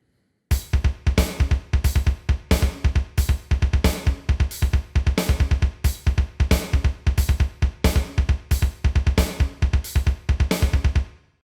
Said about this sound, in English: If you add the hi-hat and the snare to it, it sounds like this